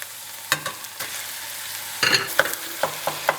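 Ground beef sautéing in a pan with garlic for bolognese sauce: a steady close sizzle broken by repeated scraping stirs and clatters of the utensil against the pan.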